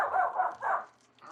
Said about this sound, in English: There was some little yappy dog barking outside.